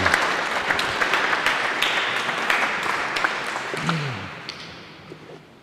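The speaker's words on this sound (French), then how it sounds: "Alors, osons applaudir." Audience applause at a conference hall in Mulhouse, a dense steady clapping from many hands that tapers off near the end, with a brief voice underneath.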